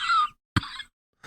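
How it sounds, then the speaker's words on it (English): A single sharp cough bursts out between two stretches of breathy, laughing sounds, close and fairly loud. "Well-timed cough"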